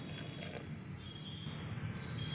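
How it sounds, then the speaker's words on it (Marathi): A glass of water is poured into green moong bean curry simmering in a pressure cooker, a soft, steady liquid splash, faint and continuous with no talking. "इथे मी एक ग्लास पाणी घालणार आहे"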